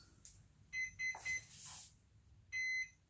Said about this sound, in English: okay, you heard those three beeps in there. It goes beep, beep, beep.